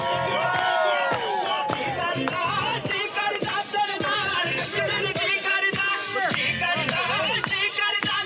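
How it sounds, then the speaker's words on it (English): Guests at a wedding reception cheer, whoop and shout for the bridesmaids as loud music plays, the dense crowd noise sustained and close throughout. "Make some noise for the bridesmaids"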